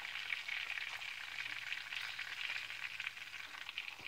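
Bacon fries in grease in a pan with a steady, soft, even sizzle and crackle throughout, no voices.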